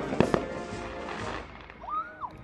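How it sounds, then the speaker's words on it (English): Fireworks go off on the Fourth of July. Two sharp booms come early, over a rumbling, noisy outdoor background, followed by fainter pops and a rising whistle. "people are going crazy with all of the fireworks. You hear all the loud booms and everything."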